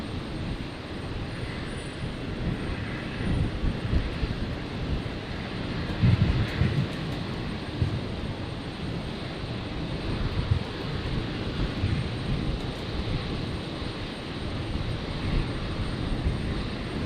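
A Singapore Airlines airliner, flight 266, takes off from Brisbane's runway 01 right on a stormy night, its engines giving a long, steady distant roar with gusty wind rumble throughout.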